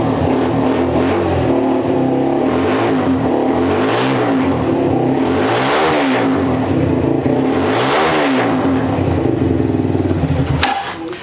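A Hi-Speed Freedom 200 motorcycle engine idles steadily, then revs up and falls back in three or four loud, close blips, ending with a sharp cutoff.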